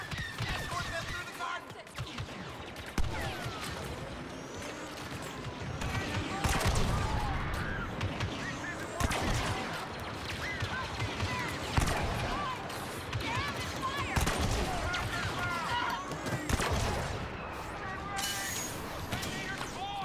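Blaster gunfire rattles in rapid, overlapping bursts during a firefight against Imperial troops in Star Wars Battlefront 2, loud and continuous throughout with shouted in-game voices mixed underneath.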